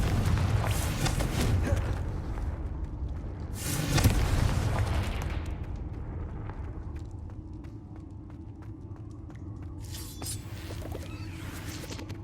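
A Confringo blasting spell in Hogwarts Legacy erupts with a deep booming burst, followed by fading rumble and ambient game sounds, then another softer whooshing impact near the end.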